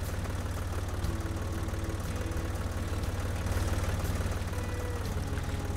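A tractor engine idles steadily in the farming game Der Landwirt 2014, a continuous low, even rumble with a faint mechanical knock, holding at the same level throughout and free of speech.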